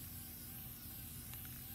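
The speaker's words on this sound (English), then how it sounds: "You're just going to spray paint it red." A spray paint can coats cement garden decor red with a steady, faint, continuous hiss that lasts throughout, and no talking.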